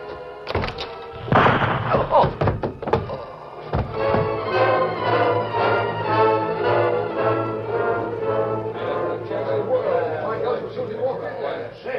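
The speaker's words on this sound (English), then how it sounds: "he knocked out the ashes against the heel of his boot, studied the sky a moment, and opened the door" A pipe's ashes are knocked out against a boot heel in a few sharp thunks, followed by a door being opened, before a voice talks steadily over the remaining seconds.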